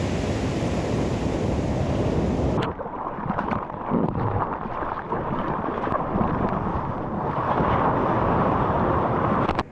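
Ocean surf roars loud and close around a surfer, with waves breaking and crashing in a steady wash of whitewater mixed with wind buffeting.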